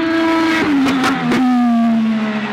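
Race cars practicing on a track drone steadily at high revs, with a few sharp bursts of engine noise, loud and fairly near, continuous throughout.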